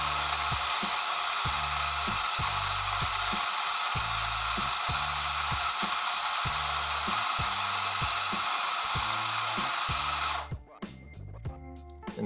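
A Coffee Tech ZF64W gravimetric grinder runs for about ten seconds, a loud whirring grind over a pulsing low chug, then cuts off abruptly, leaving a few faint clicks.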